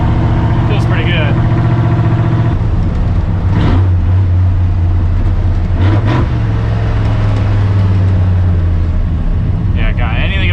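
A high-compression Ford F100 pickup engine on a street drive, heard from inside the cab as a loud, continuous rumbling drone that shifts pitch as revs change, with a voice talking over it.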